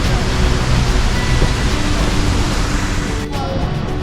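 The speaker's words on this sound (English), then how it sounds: "But we did find a bonus waterfall then." Waterfall in Lynn Canyon, North Vancouver, a steady broadband rush of falling water, loud and constant, with no speech.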